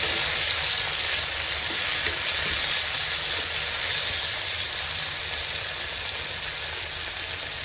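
Tomatoes go into a pan of onion, garlic, curry leaves and chilli sautéing in oil, producing a loud, steady, close sizzle with a constant hiss throughout and no voices.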